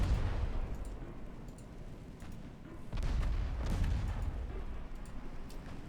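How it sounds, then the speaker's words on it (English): Torpedo launches and naval gunfire from the warship battle game Ultimate Admiral Dreadnoughts: a rumbling bed of distant cannon booms with several heavier bursts midway, steady and continuous. "Is that 6 torpedoes that I just fired?"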